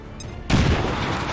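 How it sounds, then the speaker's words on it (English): Grenade detonating in XCOM 2: War of the Chosen, a sudden loud boom after a brief quiet lead-in, followed by a sustained rumbling, crackling tail. "But maybe I can Grenade out!"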